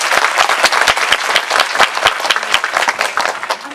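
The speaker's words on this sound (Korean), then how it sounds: "큰 박수 부탁드립니다." Big audience applause in a cinema at a Parasite film Q&A event, loud, crisp individual claps forming a continuous ovation from a nearby crowd, with no speech over it.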